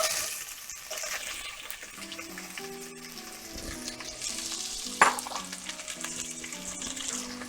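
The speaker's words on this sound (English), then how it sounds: "Now we're gonna add our vegetables. We're gonna add our onions." Onions drop into a hot pan while cooking German beef rouladen and fry with a moderate sizzle, broken by stirring scrapes and a sharp clatter partway through, with no talking.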